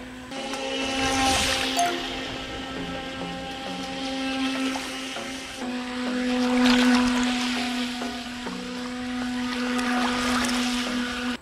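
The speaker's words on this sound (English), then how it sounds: "Look at that, the perfect size boat for this pool." A Pro Boat Jet Jam V2 radio control jet boat runs in a swimming pool, its small motor giving a thin steady whine that rises and falls as it speeds and turns across the water, moderately faint with no talking.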